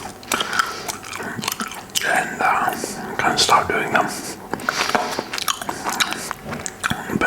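Mouth sounds of chewing 5 Rain spearmint gum, close and crisp, with wet clicks and smacks running steadily under soft whispered talk.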